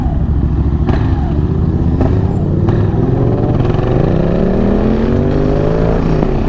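A KTM 690 Duke R single-cylinder motorcycle fitted with an Akrapovic exhaust rides close by, its engine note rising steadily through the gears under loud wind rush, with a few sharp clacks early on.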